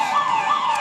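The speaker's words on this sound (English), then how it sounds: "I think the whistle went just before the final siren sounded" A basketball game's final siren sounds as a loud, steady, slightly wavering electronic tone held alone for under a second, with no voices over it.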